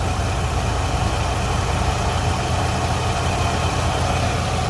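A Dodge Ram pickup truck engine idles in a loud, steady rumble with constant vibration and no change in pitch, recorded close to the running motor with no talking.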